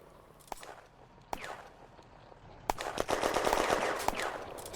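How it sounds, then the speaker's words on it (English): WWII video game firefight at a chateau in May 1940: scattered single rifle shots, then a dense rattling burst of machine-gun fire, moderately distant and echoing, with no voices. "Firing erupts as enemy are spotted in the large chateau building to the north."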